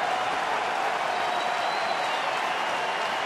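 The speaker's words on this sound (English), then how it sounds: "Here comes the crowd now." A ballpark crowd of about 28,000 at a Cleveland–Detroit baseball game sends up a steady, distant wash of cheering and applause, even and unbroken throughout.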